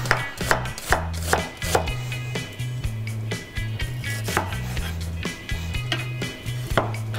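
A knife slices an onion into thin wedges rapidly and rhythmically against a cutting board, with crisp repeated taps over a low steady hum in the background.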